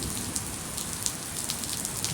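Steady rain patters on a surface, a dense hiss of drops with occasional louder splashes, fairly quiet and continuous.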